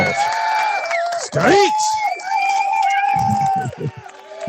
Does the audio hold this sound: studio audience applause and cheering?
yes